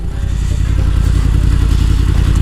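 A Yamaha MT-10 motorcycle engine drones loud and close with a steady low rumble and wind noise while riding toward a stoplight, and no voices are heard.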